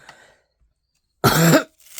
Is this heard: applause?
no